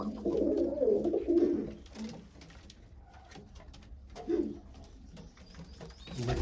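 Large pigeons scuffle and coo in low throaty bursts up close, with wing flutters and rustling between quieter moments and no talk.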